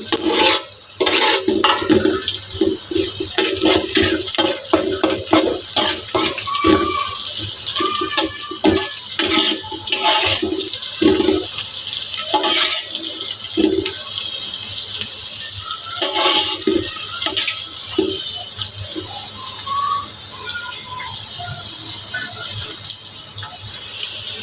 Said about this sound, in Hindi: अभी हमारी ये शिमला मिर्च फ्राई हो रही है।